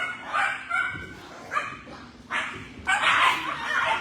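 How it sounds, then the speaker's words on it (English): Several puppies bark and yip in short, excited bursts, close and fairly loud, with brief pauses between the yapping. "Hey, you puppies. What are you guys doing? Why are you being all rambunctious?"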